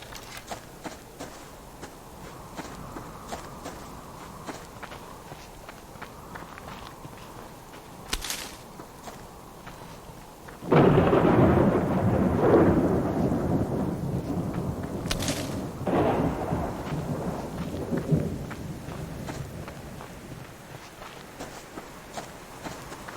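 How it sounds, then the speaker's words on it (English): Steady video-game rain hisses in the background, interrupted by a sudden loud rumbling burst like thunder that fades slowly, with a few sharp cracks. "a rather miserable rainy day"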